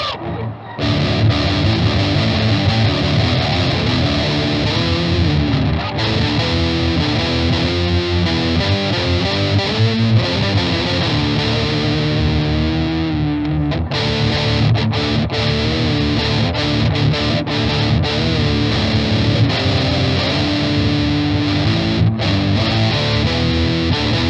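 Electric guitar played through a Stritch OCTPUS octave pedal with distortion engaged, a thick, sustained, loud, continuous fuzzy tone with chords and notes ringing out alone.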